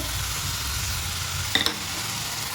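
Chicken samosa filling with ginger-garlic paste and spices fries in a pan with a steady close sizzle, and one brief metallic scrape of a stirring spoon.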